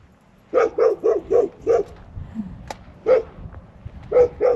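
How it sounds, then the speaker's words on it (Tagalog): A neighbor's dog on a farm barks in a quick run of five loud, evenly spaced barks, pauses, then barks again in single and paired bursts, close by with no talking over it. "Ang aming kapitbahay na aso, tahol ng tahol."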